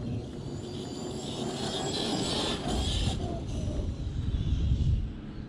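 A Traxxas Sledge 6S RC car makes a slow speed pass, its electric motor whining in a fairly faint, steady rush that builds a little toward the end before it fades.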